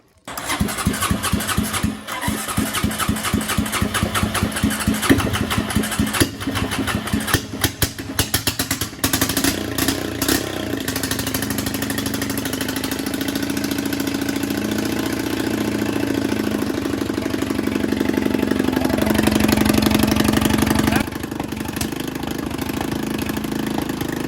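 A Honda Rancher ATV engine cranks and catches with uneven sputtering bursts, then settles into a steady, loud idle that runs on close by, alone without talk.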